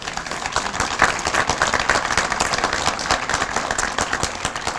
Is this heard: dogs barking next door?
no